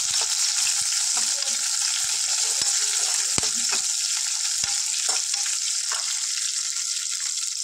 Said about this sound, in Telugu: దాంట్లో ఎండుమిర్చి కరివేపాకు వేసుకున్నాము. దీన్ని కొంచెం ఫ్రై చేసుకుందాం.